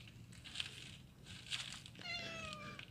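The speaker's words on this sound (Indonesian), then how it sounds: "Ini kucing aja sanggup dari bawah sampai ke atas naik tangga loh" A cat on the stone stairs of a mountain temple at Mount Galunggung gives a few short meows, including a drawn-out cry near the end, over steady outdoor ambience.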